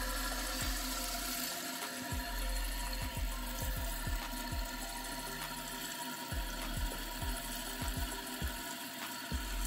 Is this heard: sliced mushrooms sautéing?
no